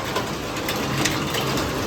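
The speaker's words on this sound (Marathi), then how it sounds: "फुल पाऊस पडतोय" Heavy monsoon rain pours down steadily outside a home, a dense, continuous wash of noise that holds at an even level for the whole stretch, with no voices.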